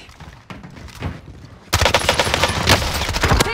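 Automatic gunfire in the video game Warzone erupts suddenly after a quieter stretch, with dense, rapid loud bursts of shots continuing to the end.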